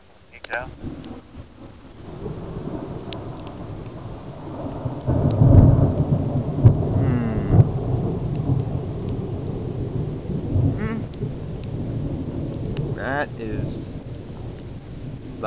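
Loud, rolling thunder in a June thunderstorm at Cambridge City, Indiana, swelling into a long rumble midway and lingering over a steady hiss of rain, with brief human voices in between.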